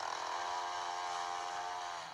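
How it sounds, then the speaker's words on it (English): A chainsaw-like motor whine runs steadily and loudly through an animated cartoon scene, a continuous buzzing drone with no break and no talk over it. "It's going to give us a bad hiding with that chainsaw, hey?"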